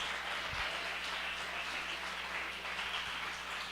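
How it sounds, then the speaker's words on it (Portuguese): Church congregation at a Sunday service clapping together, a dense continuous wash of applause with a low hum beneath, no voices over it. "Que você possa aplaudir ao Senhor e glorificar o santo nome de Deus."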